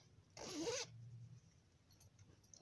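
A zipper on a sewn fabric underwear pouch is pulled once in a quick, close rasping zip lasting about half a second, followed by quiet handling.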